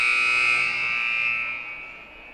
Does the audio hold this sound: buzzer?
yes